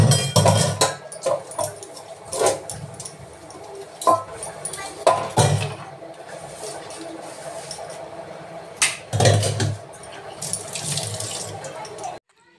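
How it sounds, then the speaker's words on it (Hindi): Dishes and utensils are washed at a kitchen sink under running tap water, with repeated loud clinks and clatters of pots, plates and cutlery against a steady background of water. "फटाफट बर्तन वो कर लेते हैं, धुल लेते हैं।"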